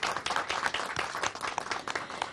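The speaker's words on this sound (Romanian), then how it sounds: "Aplauze, așa, așa, așa." Audience applause during a Romanian couples' challenge show, a dense burst of many hands clapping continuously, fairly close and lively throughout.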